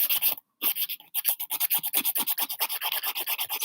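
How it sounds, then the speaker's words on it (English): A nail file rasps across fingernail edges in quick, rhythmic strokes, close and crisp, with one brief pause near the start before the steady back-and-forth continues. "Filing down those edges."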